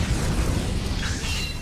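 A fire spell cast in the HD-2D video game Octopath Traveller II, a short booming burst with a low rumble that stays steady and fairly loud through its length, then a brighter crackling flare near the end.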